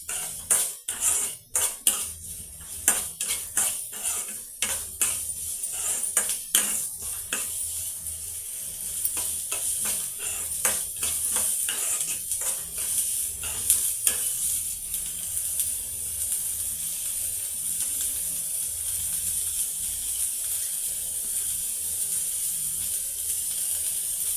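Onions fry on medium flame in a pan while a spoon scrapes and knocks against the metal in quick irregular strokes, over a soft constant sizzle, close and without voices.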